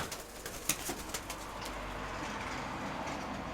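Pigeons in a loft give soft, low cooing with a few brief flutters near the start, faint and close over a steady background hiss.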